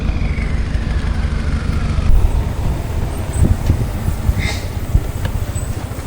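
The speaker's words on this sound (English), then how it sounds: "We're stuck behind a very long lorry at the moment." Steady road rumble from a very long double truck driving ahead on a mountain road near Chiang Mai, a continuous low engine and tire drone heard from behind, loud and unbroken.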